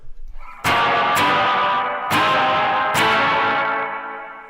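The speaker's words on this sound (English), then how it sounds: "I'm going to try the Boss reverb again, the Space Echo." Electric guitar played through a Boss Space Echo reverb effect: four loud strummed chords, each struck and left to ring out in a long washy echoing tail that slowly fades after the last one.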